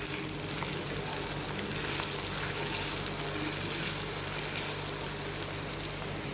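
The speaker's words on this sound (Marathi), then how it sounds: "कांदा चांगला भाजून घेते" Onion frying in a pan for a raw mango chutney, a steady close sizzle and crackle of oil that holds evenly throughout with faint stirring scrapes and no talking.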